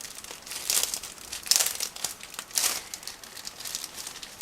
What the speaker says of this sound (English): it's a resealable plastic bag